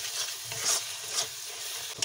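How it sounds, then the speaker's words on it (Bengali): Roasted ground masala of cumin, coriander, pepper and fennel frying in a pan for chicken, with soft sizzling and scraping stirring strokes recurring every half second or so, close and unaccompanied by talk. "বেশ খানিকটা একটু কষিয়ে নিই"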